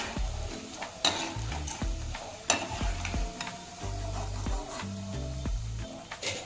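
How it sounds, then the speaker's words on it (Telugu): Oil crackles and sizzles steadily as dried lentil fritters (vadiyalu) fry, with scraping and stirring knocks from a utensil in the pan, no talking. "వడియాలు ఇలా వేయించుకొని తీసేయాలండి కొంచెం నూనె"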